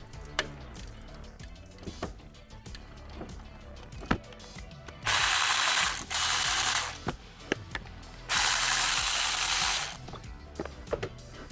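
A hand ratchet clicks in quick bursts while loosening 10mm thermostat housing bolts on a Jeep Wrangler JK, with sharp metallic ticks nearby and two longer loud hissing stretches in between.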